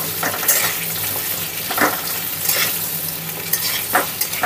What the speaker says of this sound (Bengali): এইভাবে আমি কুমড়োগুলোকে একটু ভেজে নেব।